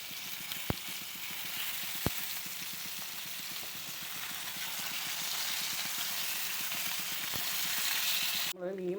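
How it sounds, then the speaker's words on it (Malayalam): Fish pieces fry in a pan for chilli fish, sending out a continuous dense sizzle with a few sharp ticks, alone and without speech, ending in a brief clatter. "ഇനി നമുക്ക് മീൻ വറുത്തിടാം."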